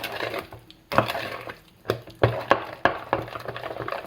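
Low carb peanut butter cookie dough being mixed by hand in a bowl, with a string of sharp scraping knocks from the utensil against the bowl, irregular and close, and no voices.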